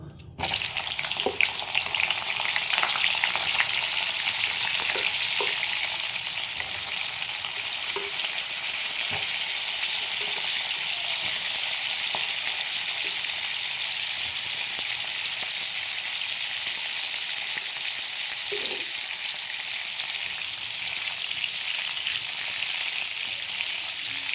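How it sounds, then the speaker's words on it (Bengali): Cauliflower florets frying in hot oil for a spiced cauliflower rezala, a steady close sizzle filling the whole stretch with occasional soft stirring clicks, no talking. "আমি কপিগুলো ভেজে নেব।"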